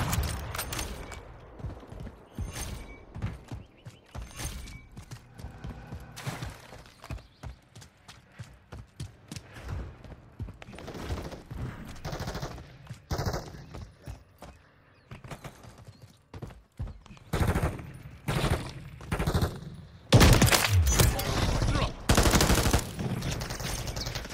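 Rapid bursts of automatic and single-shot gunfire ring out in the video game Call of Duty Modern Warfare III, with irregular cracks and volleys that grow louder and denser toward the end, with no talking.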